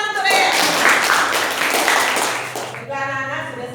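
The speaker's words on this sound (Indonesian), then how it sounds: "tepuk tangan untuk Reyes" A class of schoolchildren gives a burst of steady clapping for their classmate Reyes in an Indonesian classroom lesson. The applause fades after a few seconds, and a teacher's voice follows.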